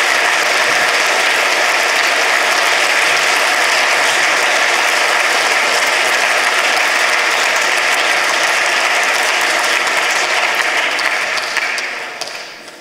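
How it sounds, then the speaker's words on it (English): Sustained, loud applause from a large audience at a science award ceremony, a dense unbroken roar of clapping that fades out at the very end. "Let's give him a round of applause, though."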